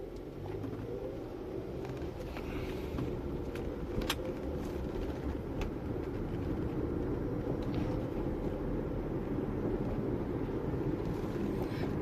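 Steady low interior road rumble from a car driving at night, a constant close drone with faint ticks and no talking.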